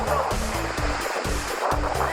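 A huge waterfall at Weeping Rock in Zion National Park roars in a dense, continuous rush of falling and splashing water, heard up close and loud.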